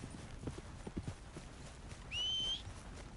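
Horse hooves clip-clop at a steady walking pace in Red Dead Redemption 2, soft and fairly distant over quiet game ambience, with a short high whinny-like tone partway through.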